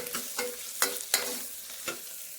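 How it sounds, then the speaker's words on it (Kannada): Okra (lady's finger) stir-fried in a pan: a soft sizzle broken by five or six distinct scraping stirs of a spatula at uneven intervals, close by, with no talking. "ಸೊ ಇವಾಗ ಬೆಂಡೆಕಾಯಿ ಹುರಿತಾ ಇದ್ದೀನಿ"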